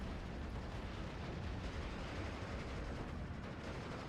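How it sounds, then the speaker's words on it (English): Artillery and naval gunfire in a war video game roar as a dense, continuous rumble of overlapping explosions, loud and steady with no clear gaps between blasts. "Naval Warfare Barrage coming on in."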